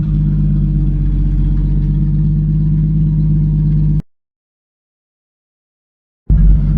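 A pre-war car's engine runs steadily with a low, throbbing idle and mechanical clatter while the gears are tested. It cuts out abruptly for about two seconds, then resumes just as loud.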